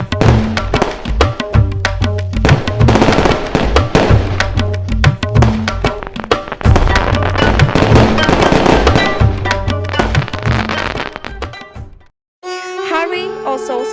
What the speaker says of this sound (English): They also set off numerous fireworks and clap their hands gleefully